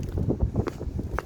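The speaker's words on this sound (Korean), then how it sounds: "바람 소리 들리죠." Gusty wind buffets the microphone with a low, rumbling roar and uneven rushes of air at the cold, icy seaside, steady throughout with no voices.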